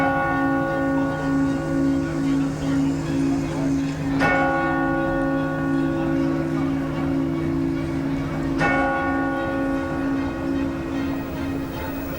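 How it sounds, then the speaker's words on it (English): Westminster chimes ring from church bells in Cambridge. Steady sustained tones hang in the air, and two sharp strikes land about four seconds apart amid a busy outdoor background with faint voices. "Westminster chimes"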